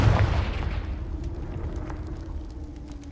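Confringo explosion spell in Hogwarts Legacy: a loud booming burst at the start that decays into a rumbling tail over steady game ambience, with faint scattered clicks afterward.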